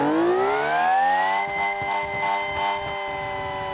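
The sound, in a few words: car engine revving in a video game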